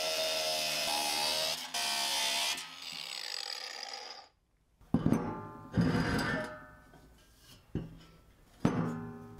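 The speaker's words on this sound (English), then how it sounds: "Right now I'm just going to trim these bolts off." A power tool, likely a grinder or cutoff tool, trims bolts off a homemade Solo Stove-style firepit built from thrift store parts, with a loud sustained whine that stops, then several short cutting bursts, close and with no talk.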